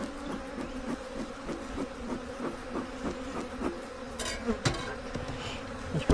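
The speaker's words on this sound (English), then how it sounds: "These bees seem to be a little more calm." A close, continuous hum of honeybees fills the air over an open hive being inspected, with individual bees zipping past louder near the end.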